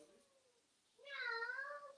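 A pet cat off camera lets out a soft, short murmur and then a louder, wavering meow lasting most of a second, quiet and nearby with no talk.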